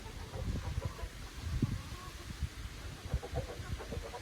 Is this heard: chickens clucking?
yes